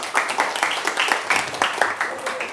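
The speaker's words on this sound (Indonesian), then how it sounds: "tepuk tangan dulu" A classroom of students applauds, with brisk rapid clapping that fills the room at a steady level for a couple of seconds, mixed with faint voices.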